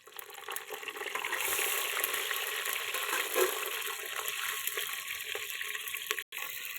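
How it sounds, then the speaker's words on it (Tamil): Mustard seeds crackling and popping in hot oil in a pan, then green chilies and garlic added to fry; a steady, close, busy sizzle runs the whole time with no talk. "கடுகு நல்லா பொரியுது. பச்சை மிளகாயையும் பூண்டையும் போட்டுக்கலாம்."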